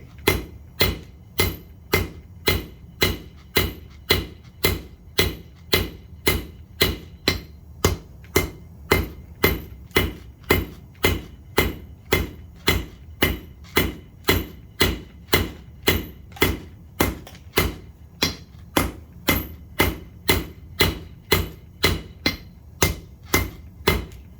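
A blacksmith's hammer strikes metal on an anvil in a forge, ringing blows landing in a steady even rhythm of roughly two per second, loud and close, repeating dozens of times with no talk.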